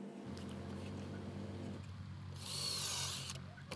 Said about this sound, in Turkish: Şimdi kolumuzu deliyorum.